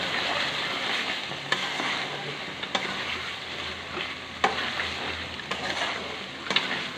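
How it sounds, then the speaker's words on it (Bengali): A spoon stirs chicken curry seasoned with garam masala in a hot pan, a steady close sizzle of frying broken by occasional sharp scrapes and taps against the pan. "গরম মশলা দিয়ে ভালো করে মিক্স করে নিতে হবে।"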